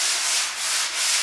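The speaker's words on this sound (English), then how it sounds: "this is a real coarse sanding sponge that I use" A coarse sanding sponge rubs over dried DuraTex spackle in a steady, close, continuous scratchy hiss that swells twice in back-and-forth strokes.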